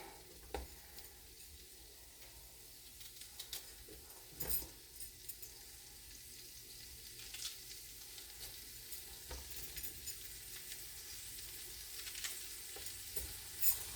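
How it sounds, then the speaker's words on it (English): Bacon frying in a pan gives a faint, steady sizzle with scattered small pops and crackles, heard alone for the whole stretch. "And then I'll just put bacon in it."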